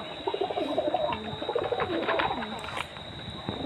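Pigeons coo close by at night after landing from a flight, soft repeated throaty calls with a person speaking quietly underneath.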